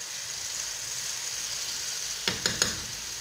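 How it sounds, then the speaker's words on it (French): Quiet steady sizzle of meatballs frying in a tagine pan, then three tomatoes dropped in with a quick run of soft thuds near the end. "Maintenant, je vais rajouter mes 3 tomates."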